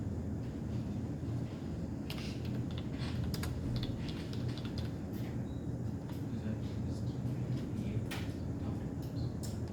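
Scattered key clicks from a computer keyboard, irregular and fairly quiet, over a steady low hum with a voice murmuring in the background.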